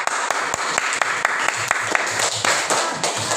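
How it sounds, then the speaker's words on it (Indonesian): A class of children clapping in a religious lesson, a close, busy round of hand claps with sharp individual slaps and steady rhythm throughout. "silahkan tepuk tangan dulu"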